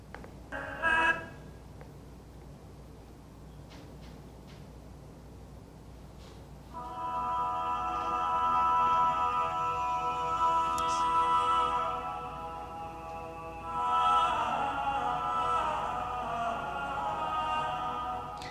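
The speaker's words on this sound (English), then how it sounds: "You're going to hear part that sounds like a chant, and then other parts that sound like they're doing completely different things." Medieval Ars Antiqua choral polyphony, a chant line holding long notes beneath florid, busy upper voices; a brief sound, then quiet, then sustained sung harmonies fill the rest, moderately loud.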